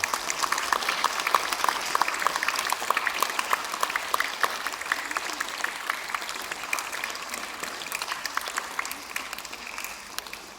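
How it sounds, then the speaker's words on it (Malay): Sustained applause from a crowd of schoolchildren fills the space for about ten seconds on the first day of school, dense and steady, slowly thinning toward the end. "Kita beri tepukan pada diri kita dan rakan-rakan yang lain."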